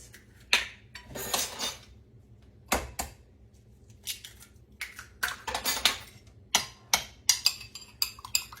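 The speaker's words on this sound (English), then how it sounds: "we've got 2 eggs we're supposed to beat lightly" Two eggs lightly beaten in a bowl for pecan fried pie filling, a fork tapping and clicking against the bowl in quick irregular bursts, close and fairly quiet with no talking.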